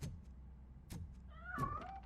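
A cat meows in the video game RoboCop: Rogue City, one short rising and falling call near the end over a low background hum, with a few faint clicks earlier.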